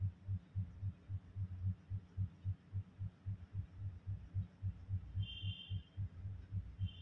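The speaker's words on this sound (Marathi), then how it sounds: "गळ्याच्या बाजूने आता इथं याला पण शिलाई करून घेणार आहे" A sewing machine stitches along the canvas-backed neckline of a patchwork blouse, its needle thumping in a fast, steady, low-pitched rhythm over a faint hum.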